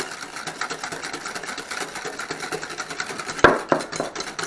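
A tiramisu mixture whisked by hand without an electric mixer, giving a steady, rapid rhythmic clatter of a whisk against a bowl, close by, with a louder knock near the end.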